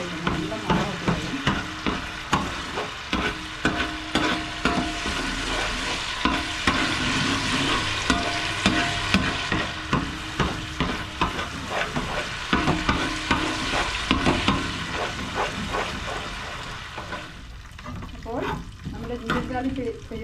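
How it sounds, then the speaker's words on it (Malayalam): Ginger garlic paste sautéing in a pan for tomato masala rice: a loud, continuous sizzle with rhythmic scraping strokes of a spoon roughly every half second, close up, easing and thinning toward the end. "ഗാർലിക് പേസ്റ്റ് വഴണ്ടി വന്നിട്ടുണ്ട്, ഗോൾഡൻ ബ്രൗൺ ആയിട്ടുണ്ട്"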